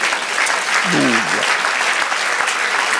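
A church congregation claps loudly and steadily throughout a worship service, with a brief voice rising and falling under the applause about a second in.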